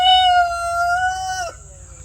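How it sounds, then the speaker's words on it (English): A single long rooster crow, strong harmonic call held for about a second and a half before cutting off, with a low background hum. "I'm trying to stop talking when the roosters start crowing at each other"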